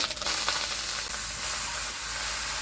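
Bathua greens hit hot oil with dried chilli, cumin seeds, bay leaf and ground ginger and cumin, giving a loud, continuous close-up sizzle and hiss, with a sharper crackle at the very start.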